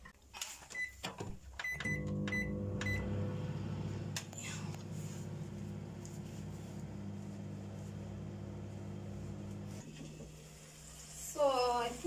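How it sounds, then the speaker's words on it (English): A microwave oven hums steadily at a low, even level for several seconds while reheating food for a fried pork dinner, preceded by door and button clicks, then falls quiet, followed by beeps at the end. "Microwave just for like a few minutes"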